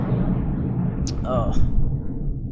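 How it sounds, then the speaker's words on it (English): A low, broad rumble of an airplane passing overhead, with a brief voice sound partway through. "sorry for the noise because there's a plane flying over."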